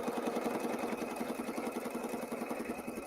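A sewing machine runs steadily while stitching quilt pieces, a fast continuous mechanical whir and patter at moderate distance with no talking.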